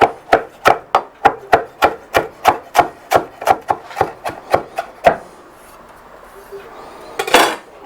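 A knife chops Italian flat leaf parsley on a cutting board in about sixteen sharp, evenly spaced strokes, close and loud, before the chopping stops and a brief scrape follows near the end.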